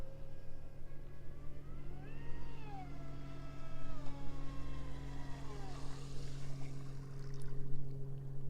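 A motorboat engine runs at throttle on a river, a steady droning hum with rising and falling whines as the throttle shifts and a swelling wash of water noise.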